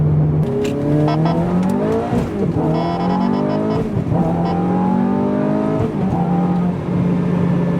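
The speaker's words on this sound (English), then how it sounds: "I love those shifts, man. They kick you right in the back." Ferrari F430 engine revving hard through rising pitch sweeps, with quick drops at each gear shift, loud and close throughout with no talk.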